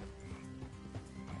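Horses clip-clop and snort in the Western game Red Dead Redemption 2, with soft, uneven hoof steps and a faint whinny-like tone under a low background hum.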